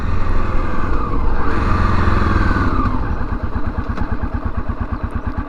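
A 1987 Honda XL600R single-cylinder motorcycle engine runs close by, a steady loud thumping beat that settles into an even idle-like pulse toward the end, with no talk.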